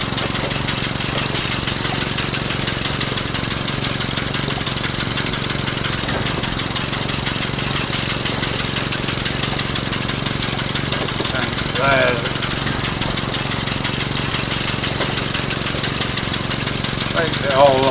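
A farm tractor engine runs steadily and loudly throughout while roadside grass is tidied on a wet day, with a constant mechanical drone and no breaks.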